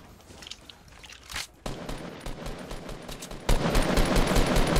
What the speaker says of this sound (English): I'm shooting the guy you're shooting right now.